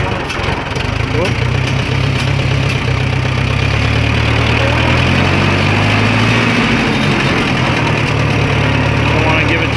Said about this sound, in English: kind of turning the tractor around here so we can get it back towards the front of the house.